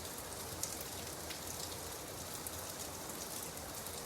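Steady, even rainfall hisses on a surface for several seconds, a soft continuous wash with faint scattered drop ticks and no voices.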